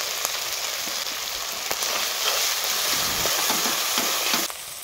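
Masala sautéing in a pan for rui fish kaliya with ground cumin added, a loud, steady close sizzle with occasional stirring scrapes, ending abruptly with a drop in the frying noise.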